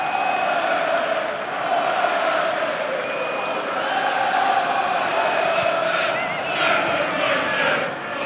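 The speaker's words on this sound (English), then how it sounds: "Away fans in fine voice." Away football fans sing and cheer in a stadium, producing a steady loud crowd roar that swells slightly toward the end.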